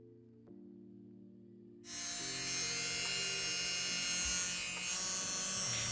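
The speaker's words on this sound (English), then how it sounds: "just drilling a hole and missing completely to make it into a keychain" Quiet hum, then a drill whirs up abruptly and keeps running steadily at a high, buzzing pitch until the end, drilling a hole through a resin keychain.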